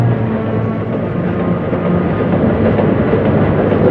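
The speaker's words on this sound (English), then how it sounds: "The train runs north to Thazi via Tonggu and goes up the Shan Plateau, arriving at Ong Ban." A 1960 railway train hauls railcars loaded with generator equipment, including a stator, toward the Shan Plateau, its loud, steady rolling rumble filling the recording with no voices.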